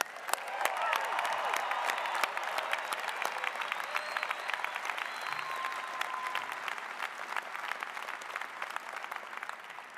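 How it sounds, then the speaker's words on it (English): Audience applause for graduates at a University of Utah commencement, dense sustained clapping from a large crowd, steady and even for the whole stretch with faint cheers mixed in. "let's have another round of applause, and let me hear it for all of our graduates"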